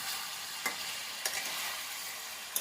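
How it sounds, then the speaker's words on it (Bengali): Chicken fries with curry leaves and green chillies in a pan, a dense steady sizzle up close with a few sharp spatula scrapes spaced across it. "দিয়ে আবার এটাকে ভালো করে এর সঙ্গে নাড়তে থাকবো"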